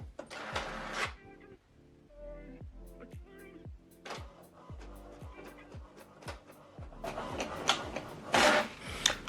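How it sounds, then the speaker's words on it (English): An HP DeskJet 3700 inkjet printer feeds and prints a document nearby, with rhythmic mechanical ticks, carriage rubbing and rasping paper-feed bursts. "Now this document is printing."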